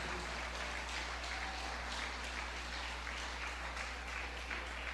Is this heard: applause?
yes